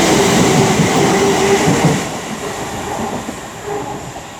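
An electric train rumbles past close by at Coventry on the West Coast Main Line, loud and steady, with rail clatter and a faint squeal, then eases slightly as it moves on.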